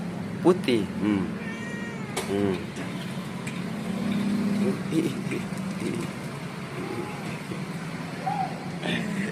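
A grey-and-white Persian cat meows repeatedly at close range, several drawn-out calls spread through the clip, with people talking nearby and faint road vehicle noise behind.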